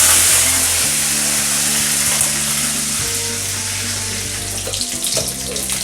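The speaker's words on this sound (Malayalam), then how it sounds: "അര ടീസ്പൂൺ കടുക് ചേർത്ത് കൊടുക്കാം. 2 വറ്റൽമുളക്, അതുപോലെ കുറച്ച് കറിവേപ്പിലയും കൂടി ചേർത്ത് കൊടുക്കാം." Mustard seeds, two dried red chillies and curry leaves sizzle in hot coconut oil for a Kerala beetroot pachadi, a steady close, loud frying hiss with brief pops and crackles throughout, no talk.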